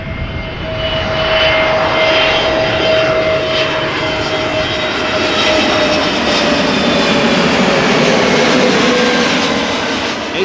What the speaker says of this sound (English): A320neo, EasyJet arriving from Milan.